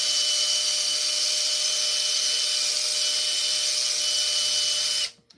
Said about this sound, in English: I still like to use the drill to just drill a clean hole in that spot.